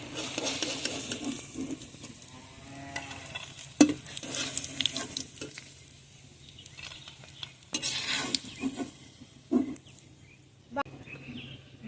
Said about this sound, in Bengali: বাকি পাকোড়াগুলো এভাবে ভেজে নেব।